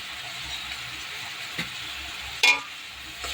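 Spice paste with salt and turmeric sizzles steadily in a pan for a prawn curry, a constant frying hiss broken by a few brief clinks and scrapes of stirring.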